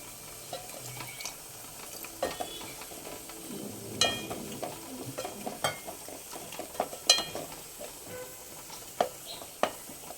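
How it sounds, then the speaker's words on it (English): Tomato masala frying in a little oil for a trotters curry, stirred with a spoon, giving a quiet sizzle broken by irregular light scrapes and clicks against the pan. "And we fry this masala well."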